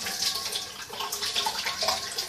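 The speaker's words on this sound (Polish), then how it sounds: "Muszę sobie umyć ręce" Tap water running steadily into a sink during handwashing, a continuous bright splashing hiss with small fluctuations, close and fairly loud, without speech.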